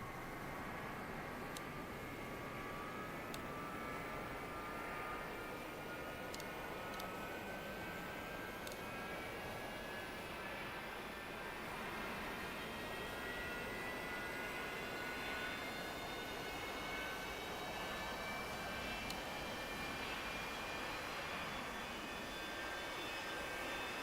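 A continuous aircraft engine drone from a flight simulator, steady and moderately quiet with a rising whine layered over broadband rumble, no voices.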